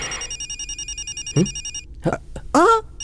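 A telephone rings with repeated electronic trills in a steady pulsing pattern, fairly loud, then stops as voices begin speaking.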